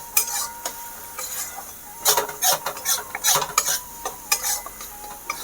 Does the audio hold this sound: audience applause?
no